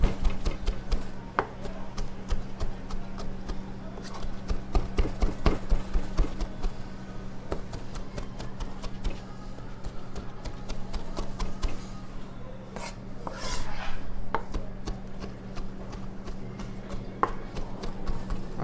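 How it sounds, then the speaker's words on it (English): Tuscan kale being chopped with a knife on a board, a long run of quick, rhythmic blade taps close by, sometimes speeding into rapid bursts, continuing steadily with no speech. "Doing a nice chop on those."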